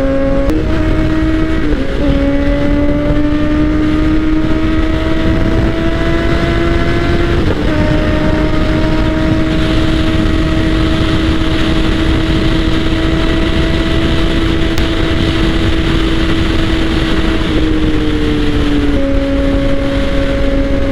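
A Can-Am Ryker 900 three-wheeler roars loud and close while riding. Its engine holds a strong steady drone, and the pitch drops briefly at a few gear shifts before climbing again.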